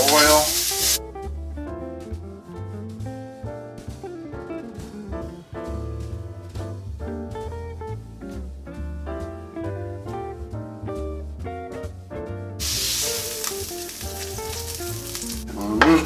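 Pork tenderloin sears in a pan with a steady close sizzle, but music dominates the mix and partly masks the hiss, which surges loudest at the start and end.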